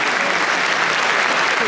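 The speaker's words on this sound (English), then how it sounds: "15-minute round of applause for" A dense, sustained burst of applause from a football crowd at a Blackpool FC match against Exeter City, loud and close throughout.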